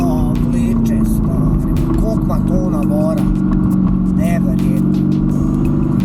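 A 550-horsepower Mercedes at a supercar meet accelerates hard, its engine droning loud and steady from inside the cabin, while people talk excitedly over it throughout.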